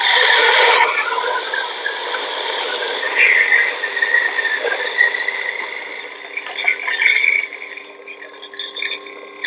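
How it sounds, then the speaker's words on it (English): Baby EK coffee grinder running at its lowest RPM as beans are ground, a steady mechanical whir with rattling and ratcheting texture, fairly close and continuous for the whole stretch. "switch on the grinder, lowest RPM, open up the chute here"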